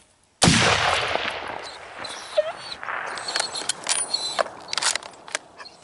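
A single sharp rifle shot, from a .243 Winchester or 6.5 Swedish Mauser, cracks loudly outdoors and then trails off into rolling echoes and faint noises.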